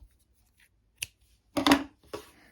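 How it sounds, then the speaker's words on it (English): Scissors snipping yarn during crochet work, one short crisp snip followed by a pair of louder cuts and a final smaller snip, close up in a quiet room. "now we're going to cut our yarn"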